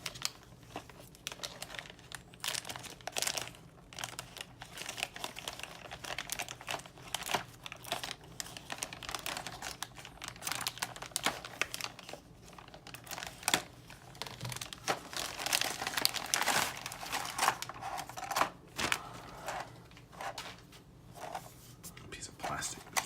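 Crinkling of plastic bags being opened to free Eaglemoss Back to the Future DeLorean model kit pieces, a steady close-up rustle and crumple running throughout, with faint murmured talk in places.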